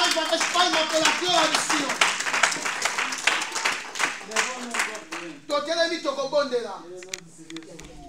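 A church congregation claps and cheers loudly during a pastor's fifth anniversary celebration service, dense rhythmic applause with shouting voices throughout, easing into a preacher's voice toward the end.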